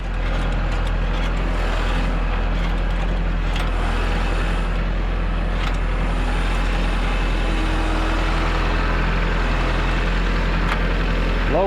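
A compact tractor in low gear and four-wheel drive pulls a two-bottom plow, its engine a loud, steady, continuous rumbling drone heard up close without a break.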